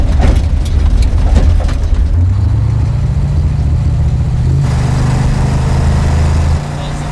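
A Ford Bronco with its exhaust cutouts open revs loudly, a deep, raw rumble that holds steady and then settles into a rougher, lower idle, close and dominant throughout.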